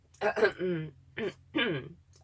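A short, raspy throat clearing with a couple of rough bursts, close to the microphone, in an otherwise quiet room.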